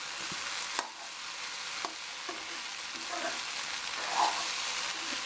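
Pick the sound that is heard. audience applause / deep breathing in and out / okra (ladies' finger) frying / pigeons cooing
okra (ladies' finger) frying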